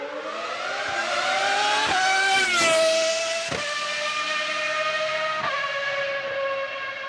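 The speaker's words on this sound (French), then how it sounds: "je voudrais à nouveau écouter ces moteurs V8 ou V10" A high-pitched V8 or V10 Formula 1 engine screams past with rising and falling revs, a sharp peak in the middle, then a sustained wail, loud and alone.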